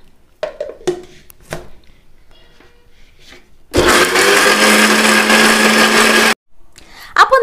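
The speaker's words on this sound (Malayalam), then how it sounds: "ഇനി ഇത് നമുക്ക് ചൂടാറിയതിന് ശേഷം മിക്സിയിലിട്ട് ഒന്ന് അരച്ചെടുക്കാം" A kitchen mixer grinder grinds sautéed onion and tomato into tomato chutney, its loud, steady whirring burst lasting a few seconds between quieter moments of handling noise and clatter.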